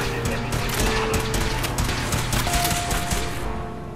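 Rapid gunfire rattles in the video game Fallout 4, a dense run of close, sharp shots in quick succession that eases off near the end.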